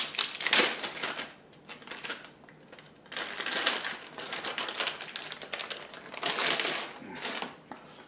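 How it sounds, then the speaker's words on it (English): A plastic bag crinkles and crumples in bursts of close, crisp rustling with short pauses between them as an Elecraft KX3 radio is unwrapped from it. "plastic bag"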